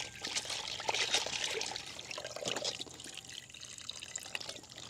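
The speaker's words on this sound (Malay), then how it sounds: "Rozet basuh dengan air asam jawa." Tamarind water splashing and trickling over fish as it is washed by hand, soft irregular pouring and dripping, quiet and close with no talk.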